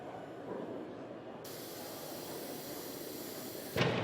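Paint misted from a spray can over a woodturned piece: a continuous close hiss that brightens after a moment and holds steady, then a short louder burst at the end.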